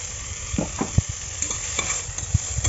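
Beetroot fries in a pan with a steady sizzle, while a utensil stirs it in repeated short scraping strokes, close up and with no voices.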